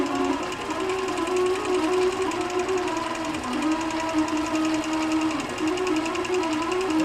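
A sewing machine stitches steadily along the edge of an applique on a quilt, a close, continuous rapid mechanical whir with a fast even needle rhythm throughout.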